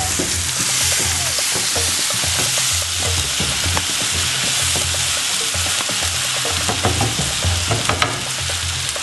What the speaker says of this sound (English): Part of the reason you add this as on the pan is just to roast it and release the flavors.